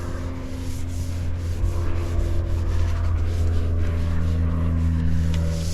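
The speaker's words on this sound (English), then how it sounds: "we're getting ready to buff it" A buffer polishes 2K gloss clear coat laid over flat black spray paint, producing a continuous rubbing drone with a low motor hum, steady and close, with no talk.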